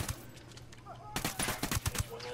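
Gunfire in Ghost Recon: Wildlands, a rapid burst of several close shots after a quieter stretch, with game ambience and voices around it.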